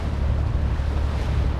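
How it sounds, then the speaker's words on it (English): Strong wind blows over a boat on the Alligator River, a steady low rushing roar with buffeting gusts and no voices. "the winds have picked up."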